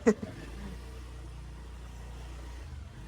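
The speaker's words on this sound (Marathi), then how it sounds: "आणि राहुल गाडी चालवतोय कसा तरी आम्हाला घेऊन" A car is driven slowly through a narrow city street in Thane at night during Ganeshotsav, its engine giving a soft, steady low hum after a brief thump at the start.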